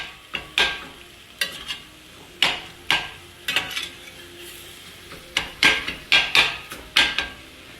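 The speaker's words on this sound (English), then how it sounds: "So I've got a nice chop going on with my meat and my onions." Ground meat and onions for sliders being chopped and folded with a utensil on a hot cooking surface, giving sharp, close scraping knocks in irregular bursts over a faint background sizzle, with no talking.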